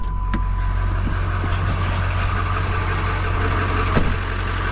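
A 7.3 truck engine runs at a steady idle close by, a low, even rumble with a couple of sharp clicks and no talking.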